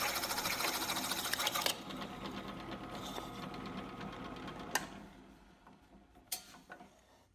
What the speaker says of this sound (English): And now it's time to bore a hole in the center.